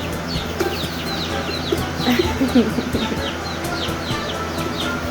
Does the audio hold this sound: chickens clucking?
yes